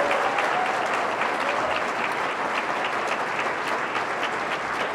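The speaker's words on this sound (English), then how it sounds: "Please, let's start with a round of applause for Speaker Kotek." An audience at a public forum applauds steadily, a dense wash of clapping hands that holds at an even level throughout.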